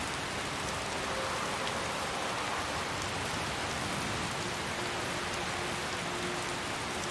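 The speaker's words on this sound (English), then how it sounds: "It's raining" Heavy, steady rain in Skyrim Special Edition hisses without pause at night, a dense and even downpour with no voices or other sounds.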